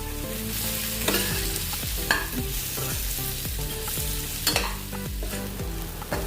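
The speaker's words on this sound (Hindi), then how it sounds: "ये देखिए इसको अच्छे से थोड़ा फ्राई करना है।" Sliced okra fries in a pan for restaurant-style bhindi masala, a steady close sizzle with spoon scrapes and stirring knocks as it is turned, and faint music-like tones underneath.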